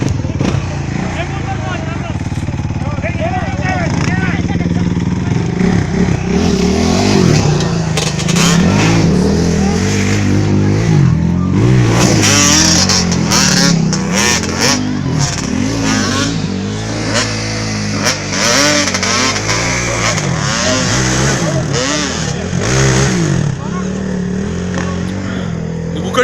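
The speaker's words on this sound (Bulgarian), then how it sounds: "Качка горе този мотор." A motorcycle revving hard as it climbs a hill at an outdoor riding event in Stara Zagora, loud engine surges rising and falling for the whole stretch, with people shouting and talking nearby.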